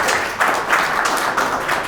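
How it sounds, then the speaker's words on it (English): A small audience at a fireside chat gives a brief round of applause, a short, even wash of clapping hands at close range. "Everyone, if you could just give a quick round of applause for Sami"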